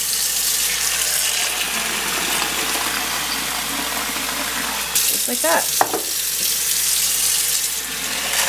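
Tap water runs steadily into bowls for soaking nuts, a bright continuous hiss that shifts partway through as the flow changes, with a brief spoken phrase near the middle.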